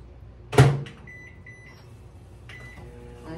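A microwave oven heating a cup of water: a loud door thump, then a run of short, clear electronic beeps as it is set, and a faint hum beneath in a quiet kitchen.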